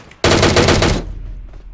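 A single burst of rapid machine gun fire rings out on the Erangel map in PUBG, loud and close, lasting under a second before a short fading tail.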